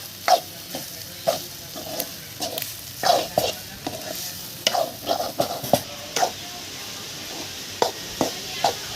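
Onions fry in a pan while a spoon scrapes and stirs, giving repeated sharp clinks and scrapes over a soft sizzle, with a quiet voice in the background.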